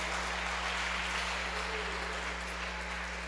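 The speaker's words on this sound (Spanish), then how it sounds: "Regalémosle un fortísimo aplauso a nuestro Dios." A church congregation claps for God during a sermon, a faint, even patter of many hands that carries on without pause over a low steady electrical hum.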